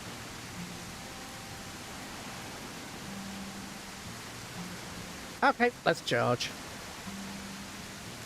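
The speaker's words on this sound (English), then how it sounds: "that rain sound is quite loud" Steady, loud rain hiss fills a SurrounDead game scene without a break, with faint low game tones and a brief spoken phrase over it.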